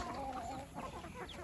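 Chickens clucking on a farm keeping Kadaknath, RIR and local breeds: steady, faint overlapping clucks and calls from several birds against a continuous background hum.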